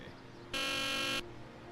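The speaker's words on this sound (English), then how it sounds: "So now we are going to hit the buzzer." A buzzer sounds once in a Back to the Future video game, a steady harsh electronic tone lasting under a second, loud and alone.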